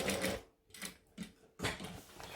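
A sewing machine stitches a Trailblazer bag in short separate bursts, a run of stitching followed by a few brief pauses and restarts as the work is pivoted, fairly quiet and close.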